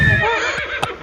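A man imitates a donkey's bray with his voice, a harmonic braying call that rises and falls over a second, with brief breathy bursts near the end and other people faintly audible nearby.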